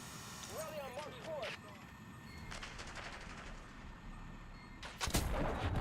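Gunfire in a multiplayer shooter game crackles in several quick bursts, including a sharp loud volley near the end, with a person talking over parts of it.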